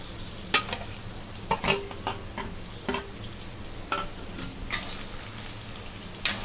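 A spoon stirs masala into steamed bitter gourd (karela) in a pan on low heat, giving a series of soft scrapes and taps at an uneven rhythm over a quiet background, with no talking.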